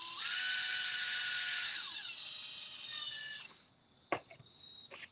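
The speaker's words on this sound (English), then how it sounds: "you can just pop it in your drill" A cordless drill drives a threaded cup hook, its whining motor running steadily for a few seconds before slowing and stopping, followed by a sharp click and a couple of light taps, close and fairly quiet.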